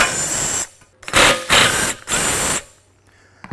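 A power tool, likely an impact driver or drill, removing 3/8 inch bolts from a Ford bucket seat assembly: three loud, close whirring bursts of about half a second each, separated by short pauses.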